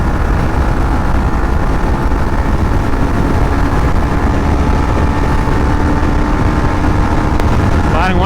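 A Yamaha MT-15 motorcycle speeds along at high speed, a loud, steady engine drone blended with heavy wind rush, unbroken throughout, with a rider's voice faintly present.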